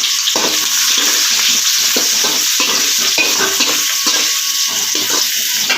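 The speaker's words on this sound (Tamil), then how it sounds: "இப்போ நம்ம வெங்காயம் சேர்த்துக்கலாம்." Sliced onions sizzle loudly in hot oil in a pan, cooking for a fish curry, with a steady close frying hiss broken by rhythmic stirring scrapes.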